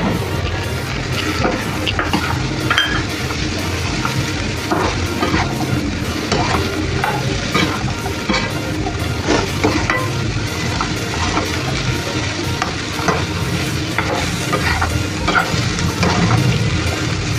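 Chopped bottle gourd stir-frying with masala in a pan, a dense steady sizzle broken by frequent scraping and stirring strokes of a spoon, loud and close; no talking.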